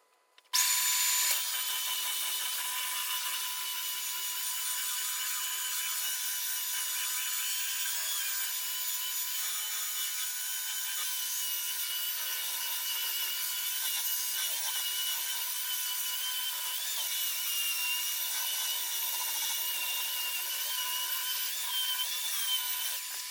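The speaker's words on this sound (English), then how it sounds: "Right, here we go, lots of sanding." Wood being sanded for a desk build gives a steady, continuous power-sander whir and hiss, fairly faint and unbroken for the whole stretch with no talk.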